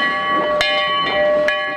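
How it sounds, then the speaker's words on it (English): A historic steam locomotive runs with a sustained chuffing hiss and tonal ringing, with sharp clanks as it passes, loud and close. "168 and 425 double-headed with the railroad's newly restored historic passenger train"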